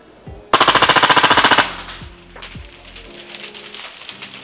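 A KRYTAC Maxim 9 SilencerCo airsoft pistol fires in full auto, giving one rapid, loud burst of about fourteen evenly spaced shots lasting roughly a second. Quieter mechanical clicks and handling noise follow.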